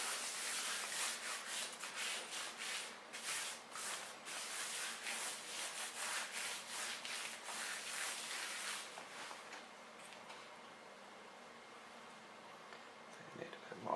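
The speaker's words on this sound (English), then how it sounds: "rub it in" Hands rub seasoning into a Black Angus beef brisket, making soft, close, rhythmic scrubbing strokes that are faint overall and fade to quieter handling near the end.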